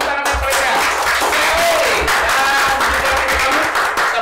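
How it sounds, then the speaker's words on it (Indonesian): A studio audience applauds at the close of a broadcast about Indonesian and West Javan coffee, a steady wash of clapping running under voices and some tonal background sound. "Tepuk tangan untuk mereka"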